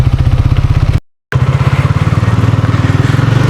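A motorcycle engine runs on a foggy morning after finally starting, a loud close steady putter with rapid even pulses, briefly cut by a moment of silence before continuing.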